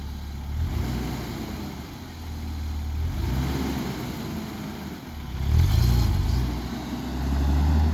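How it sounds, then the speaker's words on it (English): A manual car engine runs at low revs as it pulls away slowly, its rumble steady and near with mild swells in revving, and no voices heard. "when I was finally able to start the car and drive straight"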